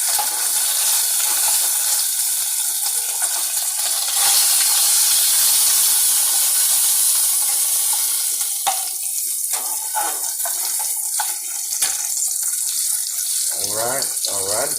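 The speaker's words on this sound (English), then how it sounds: "Got the bacon going." Bacon sizzles steadily in a hot pan for a breakfast burrito, a dense continuous crackling hiss, close and loud, with faint brief voice sounds near the end.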